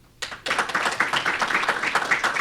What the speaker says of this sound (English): So please give a round of applause to Cate and Aaron.